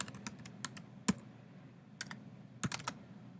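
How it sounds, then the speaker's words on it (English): Keystrokes on a computer keyboard tap out in irregular bursts and single clicks, close and fairly quiet, with no voice over them. "So you'll type your name, your block,"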